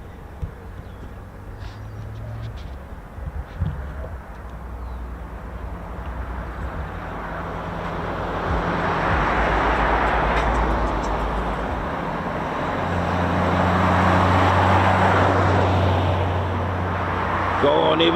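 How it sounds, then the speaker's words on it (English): A Boeing F-15QA fighter jet takes off at an air show, its engine roar swelling into a loud, sustained rumble and whoosh that builds through the second half, with people talking nearby. "It's F-15QA time."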